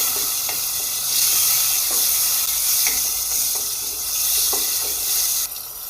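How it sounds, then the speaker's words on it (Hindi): Beef frying in a pot for biryani, a loud, continuous close sizzle and hiss with occasional scraping and stirring knocks from a utensil throughout. "अब हम ऐड करेंगे बीफ। इसको कम से कम 15 से 20 मिनट भूनेंगे।"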